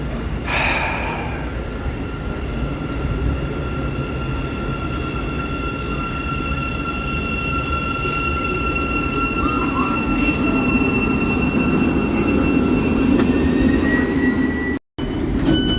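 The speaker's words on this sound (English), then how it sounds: "let's get our train arriving" A train rolls into Sandy station with a steady rumble and high, drawn-out wheel squeals that shift in pitch as it slows. No voices.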